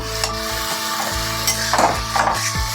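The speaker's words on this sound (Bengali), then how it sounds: "এবার আমি বেগুনটা দিয়ে দেবো এতে। বেগুনটা দিয়েও একটু আমি কষাবো" Brinjal tossed into a spiced pan and sautéed, loud close sizzling broken by rhythmic spatula scrapes and clatters against the pan, with no voices.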